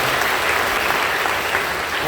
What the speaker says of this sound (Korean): 우리 아이를 축복하는데 다시 한번 박수해 주시고요